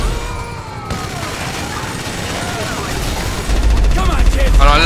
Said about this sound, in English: Just gonna make a shitload of noise with his gun.